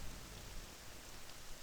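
Steady rain falls at night in the wild in the game Morrowind, a continuous soft hiss of drops spread evenly throughout with no voices.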